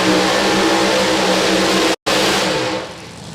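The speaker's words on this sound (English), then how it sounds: "here comes our next pair. It's going to be the Brutus Mach 1 Mustang of the Flying Butcher, Chris Schneider" A Funny Car races past at a drag strip, a loud, harsh engine roar that runs almost continuously, breaks off sharply for a moment, then returns and fades slightly at the end. No voices are heard.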